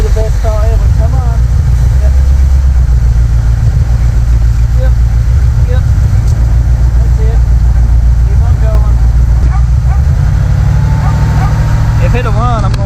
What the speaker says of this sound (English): If it'll run, I'm going to let it run a few minutes. Oh! Oh! The Elcamino is running.